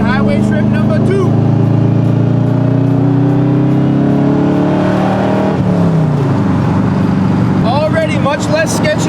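Corvette cruising on a highway, heard from inside as a loud, steady engine drone whose pitch climbs and shifts with speed, with a person talking over it.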